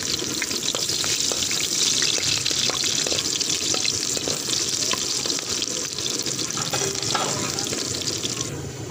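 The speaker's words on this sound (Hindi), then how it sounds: "ऑयल हमारा गर्म हो चुका है। अब इसमें शामिल करेंगे प्याज, प्याज थोड़ा सा ब्राउन करेंगे।" Onions frying in hot oil in a kadhai for Punjabi sarson ka saag, a loud, dense sizzle that continues throughout, with occasional stirring clinks.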